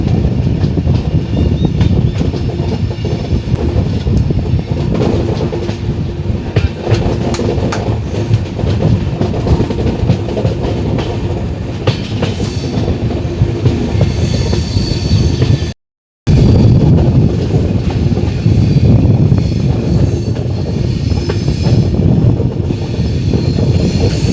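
Train 15655 from Guwahati to Katra, hauled by a WP7 locomotive, running at speed with a steady loud roar and clickety-clack of wheels over rails, heard from on board with a brief dropout partway.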